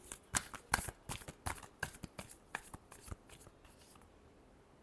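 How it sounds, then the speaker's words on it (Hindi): A tarot deck being shuffled by hand close up, a quick run of crisp riffling and slapping bursts that gradually slows and softens, with no talking. "Last shuffle."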